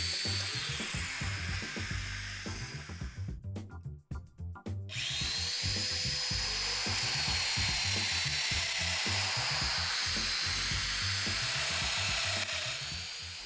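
Festool Domino joiner cutting loose mortises in a panel for a mobile MFT cart, a steady high motor whine with repeated plunging cuts, briefly stopping near the middle then running again, loud and close with no talk.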